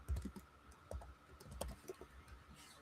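Quiet, close typing on a computer keyboard, with irregular bursts of key clicks and a few louder taps over a faint steady background hum.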